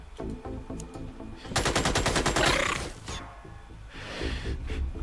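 Rapid machine gun bursts from the turn-based strategy game Xenonauts, with a dense, loud sustained volley in the middle and lighter scattered shots before and after, over game sound.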